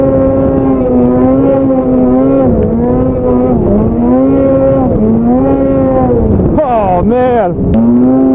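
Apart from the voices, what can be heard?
snowmobile engine revving during ride in snow storm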